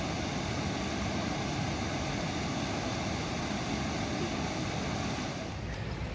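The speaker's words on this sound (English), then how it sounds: "You get gaslighted to the sound of a beautiful waterfall, which is right up ahead." Steady, loud rushing water from a waterfall just ahead in an old New England trolley town, a continuous broadband roar that holds evenly throughout and eases slightly at the very end, with no talking.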